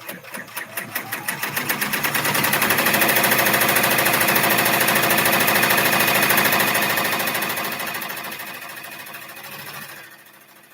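An embroidery machine stitches a see-through pouch with fast, even mechanical needle clatter that swells in loudness, holds steady, then fades and stops near the end.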